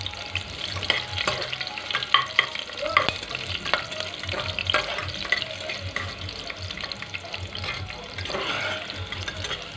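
Onions being stirred in a frying pan on a gas stove, a steady close sizzle with repeated scraping clacks of the spoon across the pan throughout, rising to a louder hiss near the end.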